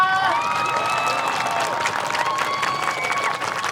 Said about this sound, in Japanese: かっこよかったねっていう人、拍手をお願いします。